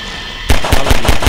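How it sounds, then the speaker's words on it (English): Rapid pistol shots in the video game Half-Life 2 start abruptly after a brief quiet lead-in, five or so loud, sharp reports fired in quick succession. "I might as well use that pistol."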